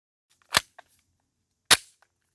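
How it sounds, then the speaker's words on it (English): Two sharp pistol shots from an IWI Masada firing practice ammunition, loud and close, spaced about a second apart with brief echo tails and no talking. "Okay, that's it. Let's get shooting."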